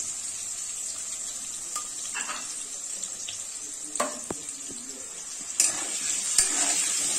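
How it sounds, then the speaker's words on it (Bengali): Potatoes frying in a pan with a little turmeric and salt: a soft sizzle runs throughout, with a few brief scraping and clinking stirs and no talk. "এরকম করেই আলুগুলোকে একটু লাল লাল করে ভেজে তুলে নেব।"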